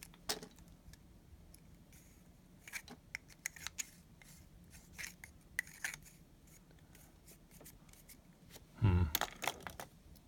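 A pen part is rubbed by hand, giving scattered close scraping and rubbing strokes in a quiet room, ending in a louder burst of friction near the end.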